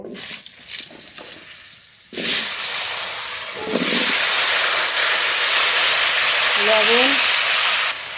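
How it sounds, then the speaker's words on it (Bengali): Cut, washed potatoes go into hot oil and set off a loud, steady frying hiss that swells and holds for several seconds, with faint clinks and a short voice in the background. "কেটে ধুয়ে রাখা আলু ভেজে নেব"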